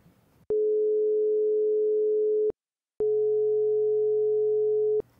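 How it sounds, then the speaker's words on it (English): Two pure sine tones of 440 Hz and 415 Hz, played as steady sustained beeps one after another with a short silent gap between them, clean and even, with no other sound. "What if we rapidly alternated between the two tones and blended them together as best as we can?"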